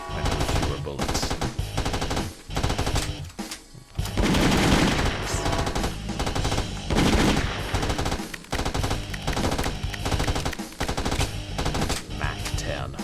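Mac-10 submachine gun firing fully automatic in an indie video game, rapid bursts of gunfire repeating loud and close over game sounds.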